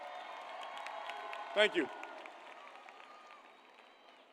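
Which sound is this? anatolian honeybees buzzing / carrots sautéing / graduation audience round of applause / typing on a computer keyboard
graduation audience round of applause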